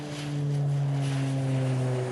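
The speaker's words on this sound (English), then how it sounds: "if you're curious how it looks to land a plane on an uneven runway" An airplane lands on the bumpy, uneven runway at St. George Regional Airport, its propeller engine giving a loud, steady droning hum that holds at an even level throughout.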